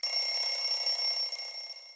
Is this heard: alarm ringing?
yes